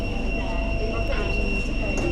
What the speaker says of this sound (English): is this train going to Osborne?